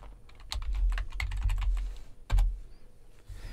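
Typing on a computer keyboard while building a slide in PowerPoint for Mac: a quick, close run of crisp key clicks that is irregular, includes one louder thump, and then trails off, with no voices.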